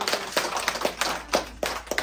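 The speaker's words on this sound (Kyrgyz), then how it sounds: "Кол чаап турабыз ушундай көрүнүшкө." An audience claps at a family celebration honouring a mother, with scattered irregular claps from a small crowd, fairly close and moderately loud, and no voices over them.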